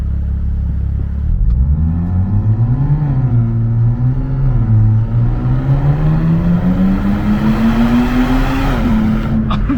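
A Nissan 400Z accelerates hard from inside the cabin, engine drone climbing in pitch through gear changes with brief dips, loud and continuous, with no talking.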